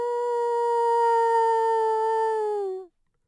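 A human voice imitates a long wailing howl, one sustained, loud, steady tone held for nearly three seconds before trailing off and falling silent.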